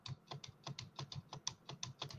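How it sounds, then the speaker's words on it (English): Computer keyboard keys hammered rapidly during a game level, a quick irregular run of clicky taps at close range with no voices. "you have to spam your keyboard"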